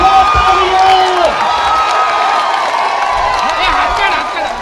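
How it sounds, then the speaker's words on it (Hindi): A political rally crowd for Akbaruddin Owaisi keeps up loud, sustained clapping and cheering, with shouting voices rising above the applause before it eases slightly at the end. "बजाते रहो तालियां।"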